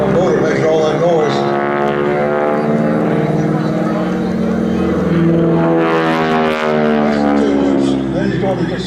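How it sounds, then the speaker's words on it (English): A propeller-driven aerobatic airplane at the Culpeper Air Fest drones loudly with tonal harmonic whine, pitch sliding up and down as it maneuvers, under an announcer's talk. "the propeller tips going supersonic on that"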